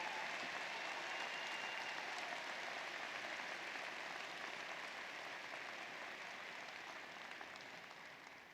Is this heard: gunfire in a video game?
no